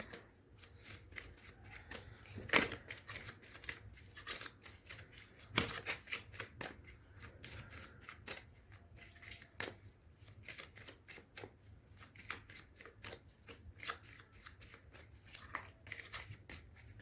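Tarot cards are shuffled in a long run of crisp riffles, slides and snaps, irregular but steady and close-up, with a few louder flicks and no talking.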